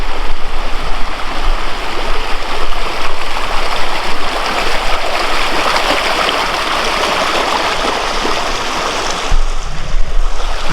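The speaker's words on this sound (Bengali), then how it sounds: "এখানে দেখো জলের যে আওয়াজ সেটা শুনতে বেশ ভালো লাগছে আমার" The small Ghargharia river stream rushes steadily, a loud, continuous close-up gurgle and wash of flowing water with no talking.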